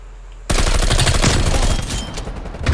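Rapid automatic gunfire from an enemy shooter in a first-person shooter game erupts suddenly and holds as a loud, dense, continuous burst for about two seconds, easing slightly toward the end.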